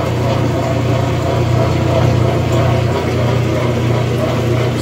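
Top-load washing machine with a suspected bad transmission draining its water before the spin, a steady loud low hum and motor drone running continuously and close throughout.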